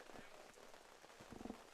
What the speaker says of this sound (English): It has been raining steadily, very hard now for quite a while